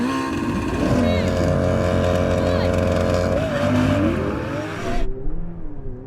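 A Ferrari 488 Pista, McLaren 720S and Lamborghini Aventador SV race, engines revving loud and close with rising and shifting tones before cutting off abruptly, leaving faint rumbling; voices talk underneath.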